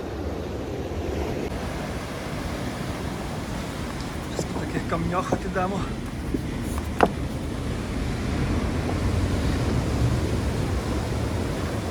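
Large ocean waves break against a rocky New Zealand shore in a constant close roar with wind noise on the microphone, while someone speaks briefly over the surf midway.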